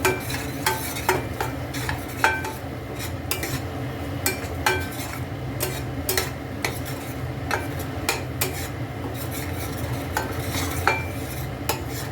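Cumin, chilli and turmeric powders stir-fried in oil in a pan for a Bengali chhanar kalia, with steady scraping strokes of a spoon against metal and sharp clinks over a low, continuous sizzle, close and moderately loud, no talking.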